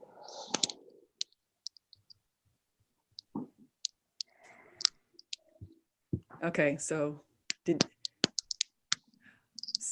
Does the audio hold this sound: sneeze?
no